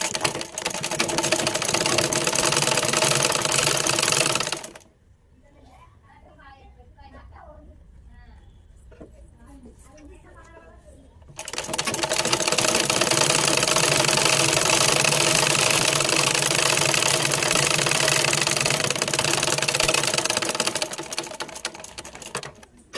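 A sewing machine stitches a child's silk shirt, loud steady mechanical whirring that runs, stops for several seconds while someone talks, then starts again and runs on continuously.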